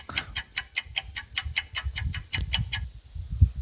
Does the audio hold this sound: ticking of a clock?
yes